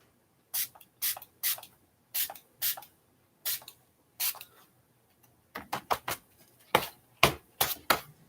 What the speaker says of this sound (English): I'm just spraying it with water.